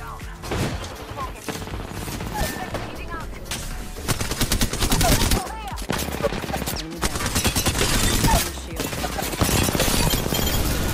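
A Flatline assault rifle firing in Apex Legends, with loud, near-continuous automatic bursts broken by brief pauses and mixed with other gameplay effects.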